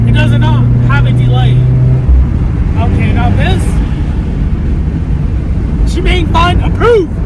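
Scion FR-S fitted with an Injen cold air intake accelerating hard in third gear from a 60 mph roll, a loud steady engine roar with rising whine inside the cabin, while people talk over it throughout.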